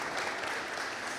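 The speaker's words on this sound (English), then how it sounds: "Yeah, you can clap." Steady applause from a live audience at an onstage conversation with comic creators, a continuous wash of many hands clapping at even loudness throughout.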